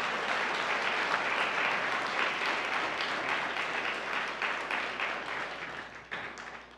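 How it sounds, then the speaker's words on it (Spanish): A church congregation at a Spanish-language sermon breaks into sustained applause. The clapping is loud and even at first, then gradually thins and softens toward the end. "Si lo cree, dele ese aplauso al Rey de Reyes"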